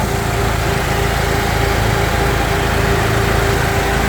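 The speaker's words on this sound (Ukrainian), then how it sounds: "Чиста робота двигуна." A 2019 Renault Master van engine runs steadily at idle under the hood, a constant close mechanical drone with no voices.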